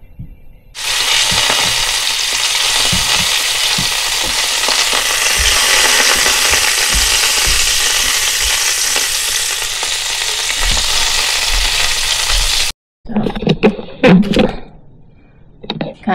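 Butter sizzling and frying loudly in a hot pan, a continuous hiss close by with occasional stirring scrapes, cutting out abruptly near the end before some brief clattering.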